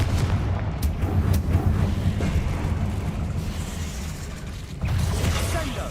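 A Confringo fire-blast spell explodes in Hogwarts Legacy, a series of sharp booming blasts and crackling bursts over a continuous rumbling game background, with a renewed burst near the end.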